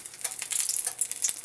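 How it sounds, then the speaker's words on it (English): A wooden spoon dipped into hot frying oil for hot water cornbread gives a close, crackling sizzle with small bubbling pops, steady and fairly loud with no talking. "this time I'm going to test it with a wooden spoon. And this is what's going to happen."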